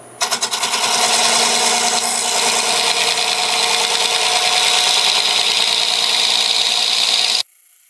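A wood ring is cut on a lathe, a loud, harsh, continuous shearing rasp that starts with a few quick chatters, holds steady for about seven seconds, then stops abruptly.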